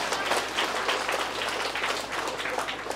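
Guests at a wedding reception applaud the bride and groom, a continuous, fairly soft patter of many hands clapping with no speech over it.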